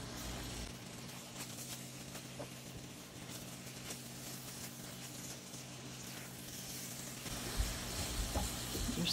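Orange peel sizzles in orange juice in a pan, a steady soft crackling hiss that is faint and continuous throughout, rising slightly toward the end, with no talking.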